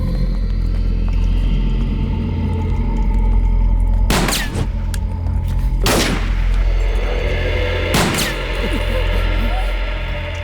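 Gunfire in a Hindi-dubbed South Indian zombie action movie: three sharp shots ring out about two seconds apart over a dense, rumbling background of music and effects.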